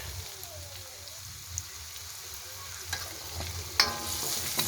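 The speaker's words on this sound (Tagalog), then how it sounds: "Golden brown na rin yung garlic." Garlic frying in a pan until golden brown, a quiet steady crackle with soft stirring scrapes and a few sharper clicks and pops growing slightly busier toward the end.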